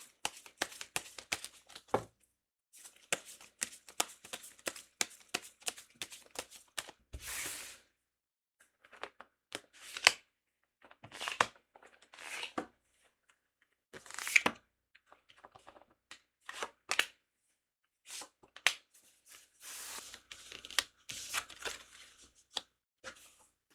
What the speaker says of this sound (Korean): 카드를 한번 뽑아보도록 할게요.